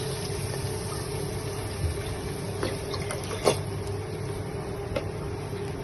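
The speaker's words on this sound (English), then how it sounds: "time for me to add the milk." Milk poured into a pot for homemade mac and cheese: a soft, steady liquid hiss runs throughout, with a few faint clinks and splashes, fairly quiet and with no talking.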